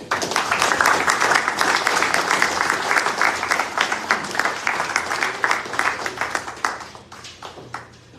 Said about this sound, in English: So we can give Bill Bancroft a round of applause.